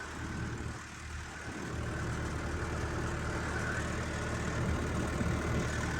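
An Arjan 605 tractor engine runs steadily nearby, a dense, constant diesel drone with a slight dip early on before settling at an even level.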